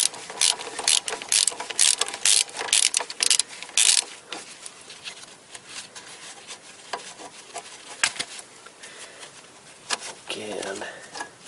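A ratchet wrench loosening a bolt on a front strut assembly of a 1992 Toyota Corolla, rapid clicking bursts up close, then slower scattered clicks and metallic knocks, with someone talking at times.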